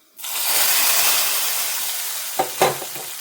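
Hot tempering for a Kerala pulisseri curry with a pinch of fenugreek powder is poured into the pot, setting off a loud steady sizzle that fades slowly, followed by a few clanks of a utensil.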